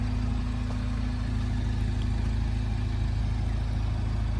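MINI Cooper S Countryman idles through its dual chrome tailpipes, giving a steady, even low rumble that holds at constant loudness throughout with no talking.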